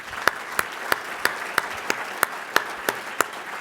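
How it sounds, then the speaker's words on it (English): Claps ring out in a slow, evenly spaced series, about three per second, at a charity dinner honouring a guest named Alan, with no voices over them. "Here's a round of applause for Alan."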